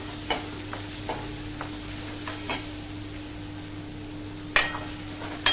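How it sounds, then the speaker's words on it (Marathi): Green peas stir-fried in a pan with garlic for dal fry, a faint low sizzle under a few soft spatula scrapes and taps, quiet and close, no speech. "हे झाल्यानंतर आपण घालूया हे मटार. मस्तपैकी परतून घ्यायचं."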